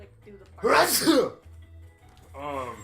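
A single loud sneeze bursts out close to the microphone, followed by a person speaking briefly afterward.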